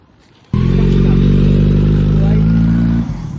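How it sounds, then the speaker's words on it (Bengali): A motorcycle engine starts abruptly and runs loud and close with a steady throbbing rumble for a few seconds, then drops off sharply to a quieter idle as the bike moves off. "বাইকটা ভাই চলে গেল, যাচ্ছে ভাই"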